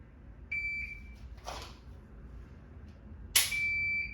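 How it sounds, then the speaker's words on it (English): A shot timer beeps during a dry fire drill, one steady tone followed by a second sharp, louder beep near the end, with a soft click or rustle between them. "try to time that shot to the second beep of the timer"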